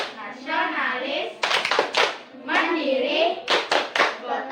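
Rhythmic clapping chant led in an Indonesian grade 3 classroom: bursts of group hand claps alternate with a sung or spoken chant, repeated in a steady pattern with voices carrying between the claps.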